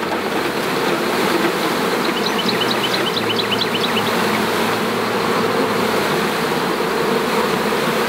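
Honeybees buzz in a dense, continuous swarm drone while being settled into a hive, steady and close, with faint rustling underneath.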